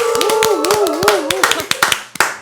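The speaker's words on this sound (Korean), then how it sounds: "두 분 박수로 환영하겠습니다." A burst of brisk applause from a small group welcoming two guests on a Korean political talk show, sharp overlapping claps over a sustained tone, thinning out toward the end.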